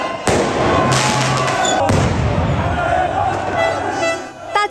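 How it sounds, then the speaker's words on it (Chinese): Fireworks go off in a street where Moroccan football fans in Belgium celebrate after a World Cup match: two sharp bangs cut through continuous loud car-horn honking and crowd noise. "街上放起烟火"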